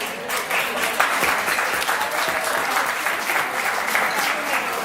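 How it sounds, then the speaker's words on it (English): Applause for the bride and groom at a wedding reception in Thailand: a room full of guests clapping steadily and fairly close, a sustained dense patter that holds evenly throughout. "I think they deserve a round of applause"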